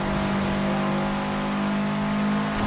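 Car engine revving hard in the Forza Horizon 2 racing game, a steady loud sustained drone held flat-out throughout with no talking.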